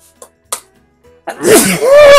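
After a few soft clicks and breaths, a loud, close sneeze bursts out, followed by a strained, drawn-out exhale.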